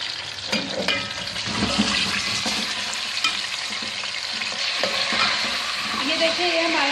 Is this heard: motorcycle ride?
no